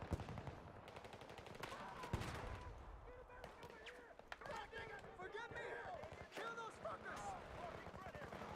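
Rapid bursts of automatic gunfire and single shots from the Halo video game rattle through a busy battle mix, with people talking over the shooting.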